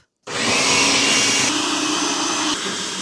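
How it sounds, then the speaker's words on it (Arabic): A food processor runs steadily after a brief silent start, whirring loud and continuous as it grinds pepper, garlic, paprika and coriander for an Egyptian basterma spice paste, with no talking. "نجيب بقى الفود بروسيسور وهنبتدي نحط فيه الحاجات دي ما عدا الحلبة"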